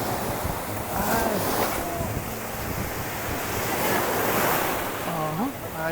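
Strong ocean surf crashing continuously with heavy wind buffeting the microphone; a few faint voices call out in the background.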